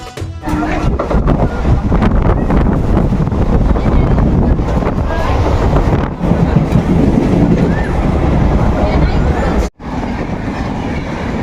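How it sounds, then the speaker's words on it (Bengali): A local train on the Howrah to Digha line rumbles along steadily with loud, continuous rolling and wind noise, briefly dipping near the end before resuming. "আমাদের ট্রেন এসে পৌঁছালো বাউরিয়াতে"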